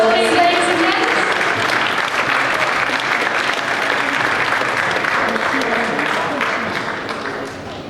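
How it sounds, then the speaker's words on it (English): An audience at a community assembly gives a big round of applause for a raffle prize winner, dense sustained clapping from a crowd indoors, loud and even before tapering off slightly at the end. "Oh, big round of applause."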